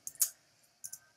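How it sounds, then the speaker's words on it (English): A computer keyboard is tapped while designing in Adobe Illustrator, a few soft, faint clicks in two small clusters with a quiet pause between them. "just start typing, it doesn't matter"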